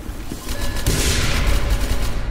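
A gunshot in the SCP video game, landing as a dense burst of firing over continuous background game noise, loud and close, with no talk.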